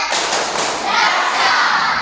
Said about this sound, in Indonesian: Tepuk tangan dong buat Agung.